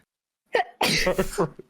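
A short intake of breath, then a single loud, close sneeze that trails off, with brief vocal sounds after.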